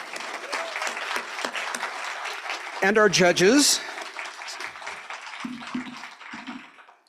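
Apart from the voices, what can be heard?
audience applause for competitors and judges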